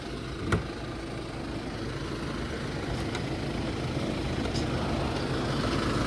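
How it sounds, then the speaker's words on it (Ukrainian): Kia Sorento with a 2.5 diesel engine idling, a steady, even low rumble that runs continuously at close range with one brief sharp knock near the start. "Як ви чуєте, двигунчик у нас працює чітко, рівненько, без посторонніх шумів, звуків."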